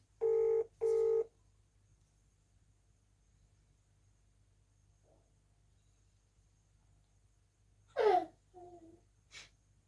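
Two short electronic telephone ring tones sound close together through a phone line, followed by long quiet hiss and a brief breath or gasp.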